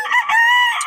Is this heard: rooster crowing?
yes